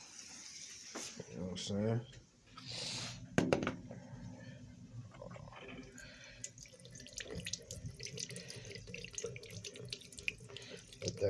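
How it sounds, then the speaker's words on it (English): Lukewarm tap water runs into a sink over food, a hissing splash that starts and stops in bursts with drips, while someone talks over it. "we're going to run this under the lukewarm water real quick"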